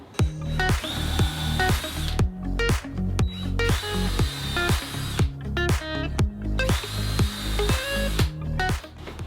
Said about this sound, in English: Pre-drilling these so they don't crack.